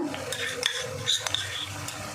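Spice paste with green chili paste being sautéed in a pan for red pulao, with soft sizzling, scraping stirs and light clinks of a utensil against the pan, close and fairly quiet.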